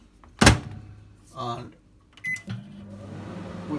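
A microwave door thuds shut around the half-second mark, followed by button beeps and a low steady hum as the oven starts running on a spaghetti bolognese dish under a splash lid, with a voice speaking briefly between.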